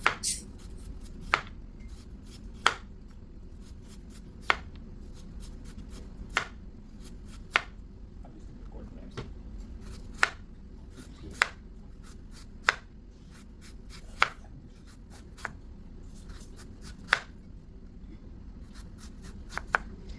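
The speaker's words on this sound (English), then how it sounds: "Now thinly slice the jicama." A knife thinly slicing jicama on a cutting board, making crisp, evenly spaced chops roughly every second or two, close and clear with no talk.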